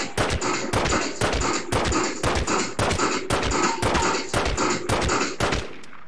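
An upgraded pistol fires in The Godfather on PS2, about a dozen loud, sharp shots in a rapid, even rhythm, each cracking out with a short echo before the firing stops.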